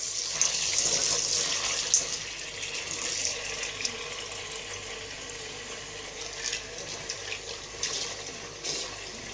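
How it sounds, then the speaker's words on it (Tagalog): Tap water runs steadily from a faucet onto chickpeas in a bowl for soaking, a continuous splashing flow at close range with no voices. "Hugasan ko muna ng isang beses. Tapos, lagyan ko na ng tubig."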